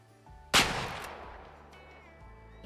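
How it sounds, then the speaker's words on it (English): A single loud rifle shot at a red deer in the hunting game Way of the Hunter, a sharp close crack followed by a long fading rumble over a quiet ambient backdrop. "Let's take a shot on this guy."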